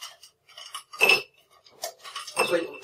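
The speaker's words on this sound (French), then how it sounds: "Nous remplissons de glace notre verre." Ice cubes clink and rattle into a cocktail glass in sharp bursts while a Dry Martini is being made, with someone speaking French between the clinks.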